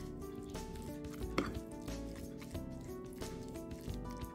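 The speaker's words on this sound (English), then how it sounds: "Mix really well until well combined." Canned tuna, kale, salt and black pepper being stirred together in a bowl, soft wet squishing and light scraping strokes repeating quietly and close, with no talking.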